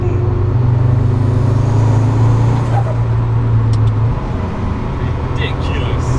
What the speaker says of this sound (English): Listen to that turbo spool.